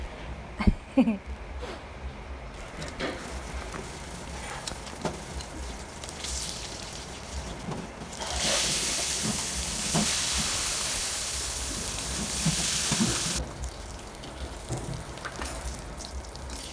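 Fish, likely native tilapia, frying in hot oil in a pan, a steady crackling sizzle that swells into a loud broad hiss midway, with scattered clinks and handling noises.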